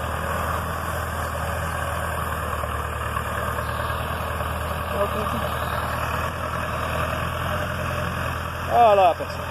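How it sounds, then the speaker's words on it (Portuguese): A tractor clearing sugarcane bagasse runs with a steady, low idling engine drone throughout, moderately close, with a brief louder mechanical squeal near the end. "É limpando o bagaço agora com o trator."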